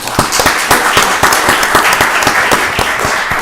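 A room full of people applauds at a county board of commissioners voting session, steady clapping throughout at moderate volume, with no talking over it.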